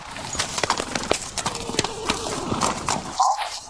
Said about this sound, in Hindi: लगता है ये नया घोड़ा लाया है।